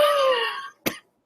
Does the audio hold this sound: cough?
yes